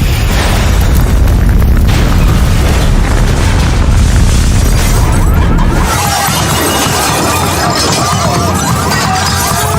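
A burning nine-story building collapses in a sustained, loud roaring rumble with crashing debris, dense and continuous before easing into a lighter rushing clatter.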